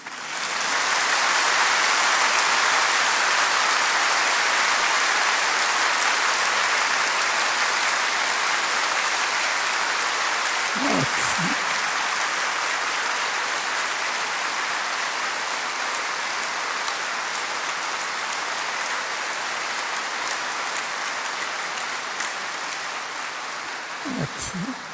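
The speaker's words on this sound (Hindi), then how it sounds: "ताली बजाओ।" An audience at a spiritual class gathering claps in a dense, sustained burst of applause that lasts the whole stretch and eases slightly toward the end.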